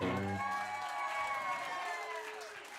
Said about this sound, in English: can we get a round of applause for Dave over here on the guitar